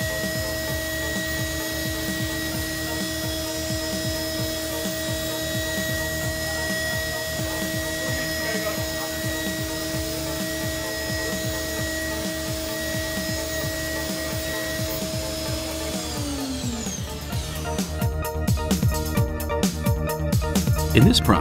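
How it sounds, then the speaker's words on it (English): An NTK solid ceramic end mill cuts metal at 2000 SFM with a steady high whine and sustained tonal hum that fills the stretch, then the tone drops away and gives way to rougher, louder crackling grinding near the end. "This is NTK ceramic end mill machining the same material at 2000 SFM."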